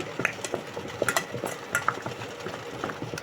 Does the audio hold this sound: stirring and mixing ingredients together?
yes